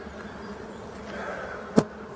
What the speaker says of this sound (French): Quelques 2-3 garçons, des faux bourdons.